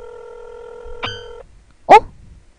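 Telephone dialing tones in the Korean horror game GAZE: a steady multi-tone beep holds for over a second, then a brief sharp electronic blip follows, fairly close and alone, with no talking.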